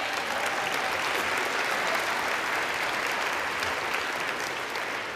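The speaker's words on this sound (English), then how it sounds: "Can we have a round of applause for them, please?" Applause fills the US House floor for congressional staffers, a dense, even roar of many hands that holds steady throughout without any speech on top.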